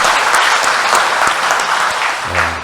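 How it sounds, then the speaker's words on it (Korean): A church congregation at Sunday Mass claps for newly baptized members seated in the front pews, a dense, steady burst of applause filling the room before tapering off at the end. "너무 우리 격려의 박수를 보낼까요?"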